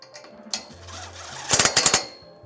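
A 3/8 socket snugs down a bolt on a light mount bracket during a Polaris Ranger XP winch rack install, giving a quick burst of five or six sharp ratcheting clicks after some softer handling noise.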